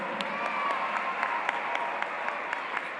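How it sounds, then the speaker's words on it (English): A graduation ceremony crowd at CSKYWLA and B.E.S.T. Academy in 2018 gives steady, moderately distant applause, with many hands clapping evenly throughout. "Please give them a round of applause."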